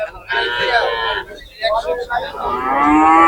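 Cattle mooing loudly at the Shimulia cattle market in Rupganj, Narayanganj, with several long, drawn-out moos close by, one after another, and a faint crowd murmur behind.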